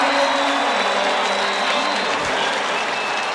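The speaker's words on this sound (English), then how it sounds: "Crowd rising to their feet as Lockwood scores" A college lacrosse crowd at a 1994 NCAA men's game between Syracuse and Loyola bursts into sustained applause and cheering after a goal, a loud, dense roar of clapping that swells and holds steady throughout.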